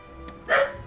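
A dog gives one short, sharp bark in the video game Monster Hunter World. The bark is a brief, close burst set against a low, steady background hum.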